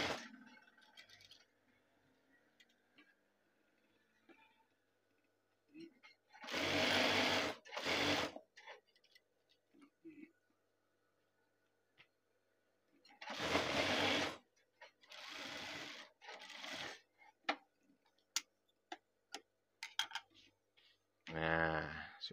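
A sewing machine stitches along a jacket lining in short bursts of fast, whirring stitching separated by quiet pauses, close and clear, with faint handling noises between runs.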